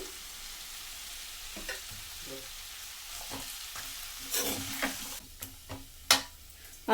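Lentil and vegetable curry with potato, brinjal and carrot simmering on a low flame, a faint soft bubbling and sizzle with a few quiet clicks and knocks near the end.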